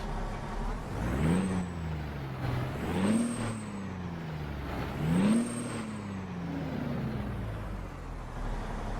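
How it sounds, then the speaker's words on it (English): Caterpillar diesel engine in a Freightshaker Classic XL truck in American Truck Simulator, revved three times in steady succession, each rev rising and falling back to a rumbling idle, loud and close with no talk. "let's go ahead and hear this engine, this Caterpillar"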